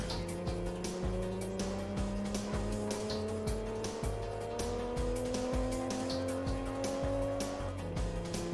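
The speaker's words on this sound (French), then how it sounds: "le son de la voiture est quand même bien réalisé" A racing car engine in the PS1 game Tuning Car Battle Spec R revs and shifts gears continuously while tires squeal through a skid on a Japanese road, loud and close, with no talking.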